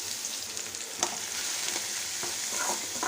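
Pieces of ridge gourd frying in a pan for a Telugu chutney, with a continuous bright sizzle and light spatula stirring that clicks now and then, all without speech.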